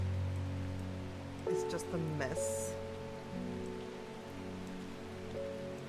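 Steady rain falls throughout in the video game Strange Horticulture, a constant soft hiss that continues under a person's brief speech and a few short tonal game sounds.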